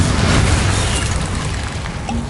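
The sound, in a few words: Bombarda blasting spell explosion in the Hogwarts Legacy video game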